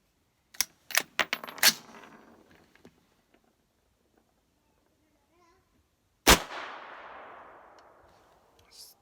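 Allegiance SilentStrike gun fired in a quick burst of sharp clacks, then a single loud shot with a long ringing decay, each failing to eject; close and clear with no talking.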